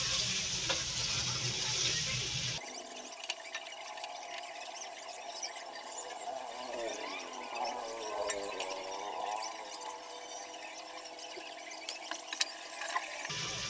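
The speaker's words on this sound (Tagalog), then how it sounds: "Mix na natin ang ating pork." Pork for sinigang is stirred in a pot, sizzling with a steady frying hiss and occasional scraping of the utensil, heard up close with no talking.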